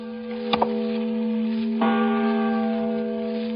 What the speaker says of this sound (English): the voice of a great bell proclaiming liberty